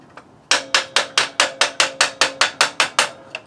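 Repeated hammer taps on a bolt being driven into a motorcycle front motor mount (WR250 dual-sport), about a dozen sharp, evenly spaced metallic strikes, close and loud, with no talking.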